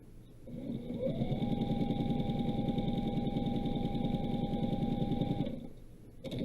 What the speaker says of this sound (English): You also notice that my Juki likes to run.